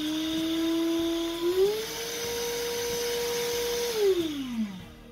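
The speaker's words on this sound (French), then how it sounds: "Je vous laisse entendre l'aspirateur, comment ça fonctionne." Cecotec Conga carpet and sofa cleaning vacuum running close up, a loud steady motor whine that shifts up in pitch partway through, holds, then drops again.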